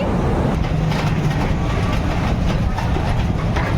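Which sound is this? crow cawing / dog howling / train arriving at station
train arriving at station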